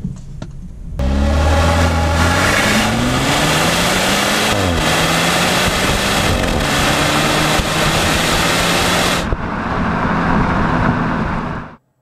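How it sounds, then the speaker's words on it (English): A 2016 BMW 328i xDrive Gran Turismo launches hard from a stop, its engine climbing loudly through several upshifts with rising and dropping pitch, then easing back to a steady cruise under road noise. "Same thing with launching the car, which I'm going to show you right now."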